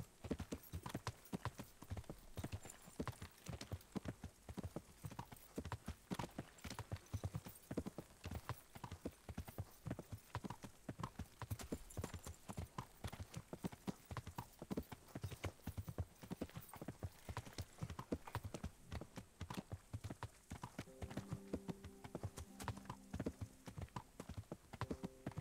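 Steady clip-clopping of horses' hooves on a hard surface in a video game, a continuous trotting rhythm, fairly quiet, with a faint tonal chime near the end.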